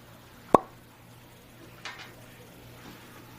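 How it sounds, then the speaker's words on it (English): A cork pops from a bottle of Buffalo Trace bourbon, one sharp, brief close plop followed by faint small handling sounds in a quiet room. "So let's pop the cork"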